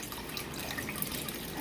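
Tap water runs steadily from a faucet while an aquarium water change is underway, making a soft, continuous splashing stream without any talking.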